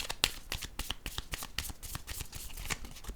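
Oracle cards are shuffled and drawn by hand, close up and quiet, a rapid run of papery riffles and flicks over a few seconds.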